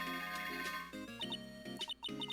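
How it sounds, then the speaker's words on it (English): Chiming electronic alarm clock for a train in the Phoenix Wright video game, a bright repeating melodic ring that plays steadily over a low sustained tone, with no voices. "That's the alarm clock for the train."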